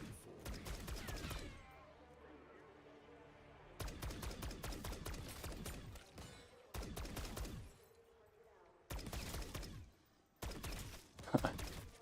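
Rapid bursts of video game gunfire hit in clusters, loud and close, separated by quieter gaps of low ambient rumble across a shooter match.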